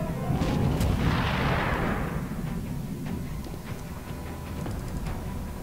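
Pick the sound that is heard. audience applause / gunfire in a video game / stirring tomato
gunfire in a video game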